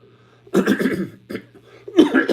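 Several close, hacking coughs in two bursts separated by a short pause, with a low steady hum underneath.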